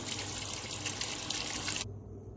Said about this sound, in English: maybe like about 2 minutes, just let it run underwater